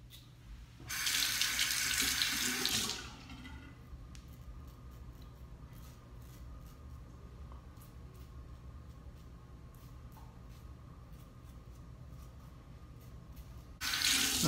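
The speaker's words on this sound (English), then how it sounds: "The final rinse off, hot water, then cold water." Hot and then cold tap water runs into a sink for a final rinse after a shave with a Mühle R89 Grande safety razor; a loud steady gush for about two seconds, then quieter background, and the flow returns briefly at the end.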